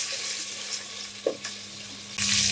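Spice paste with garlic paste sizzles and crackles in a hot pan, with a soft clunk of stirring midway and a sudden louder hiss near the end as a little water hits the oil.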